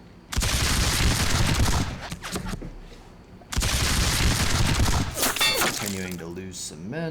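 Massed musket volleys crash out in an American Revolution video game battle: two long, loud rolling fusillades a few seconds apart, with someone speaking briefly after the second one fades.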